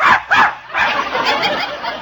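A dog barks in a few short bursts near the start, followed by continuous muffled noise in a domestic radio comedy scene.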